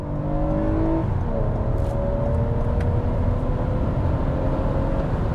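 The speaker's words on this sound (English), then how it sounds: "Okay, guys, here we go on the 0-60." A 2021 Toyota Camry XSE accelerates hard from a standstill in a 0-60 run, front tires briefly spinning, its engine rising in pitch through gear changes over a loud, continuous road roar.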